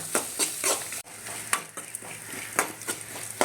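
Green chillies fry in a pan with browned ginger and onion for a coconut-milk upma, crackling in a steady sizzle while a spoon scrapes and taps against the pan at irregular intervals, close up, with no speech.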